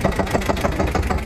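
A small 188 tractor engine idling nearby with a steady, rapid chugging pulse, moderately loud and rough, with no talking over it.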